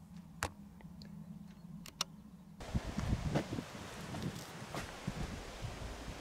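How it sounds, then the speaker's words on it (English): Gusty wind buffets the microphone as a broadband rumbling roar that starts abruptly after a few quiet seconds, with faint ticking and rustling earlier. "Sorry about the wind."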